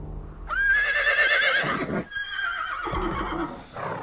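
A horse gives a loud, close whinny with a wavering high pitch that breaks off, followed by further snorting neighs.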